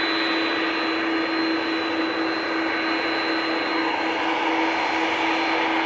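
A Brussels Airlines Airbus A319 jet at Manchester Airport gives a loud, continuous engine roar with a steady whining tone riding over it, close and unbroken for the whole stretch, no voices.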